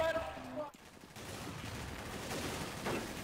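Scattered gunfire from the Counter-Strike: Source gun game mode, a busy, noisy mix of shots with some muffled bursts, no voice over it.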